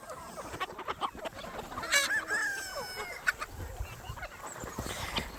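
Chickens at a farmyard, including a rooster, cluck and squawk in short scattered bursts of moderate loudness over outdoor ambience.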